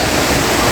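Savatkada waterfall in the Konkan: a brief, dense roar of rushing, crashing water, steady and loud without pause, no voices.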